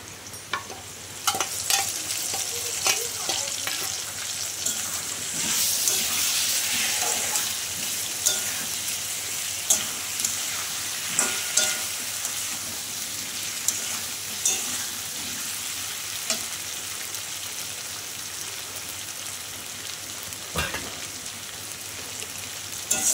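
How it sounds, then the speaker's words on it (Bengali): Steady sizzling of cumin, ginger and green chili paste frying in a pan, with repeated scraping and clinks of a spoon stirring throughout, close and continuous. "মশলাটা দিয়ে তো আমি একটু কষাচ্ছি।"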